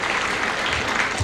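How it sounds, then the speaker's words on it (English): Studio audience applause on a game show, a dense, even wash of clapping from many hands that holds steady throughout, with faint talk underneath. "You can applaud, too."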